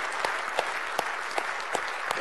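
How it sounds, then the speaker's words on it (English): An audience applauds an honor guard at a conference session: a dense, steady wash of clapping from many hands, with a few sharper individual claps standing out at regular intervals. "Let's have another round of applause for Kelly and the Tribal Honor Guard."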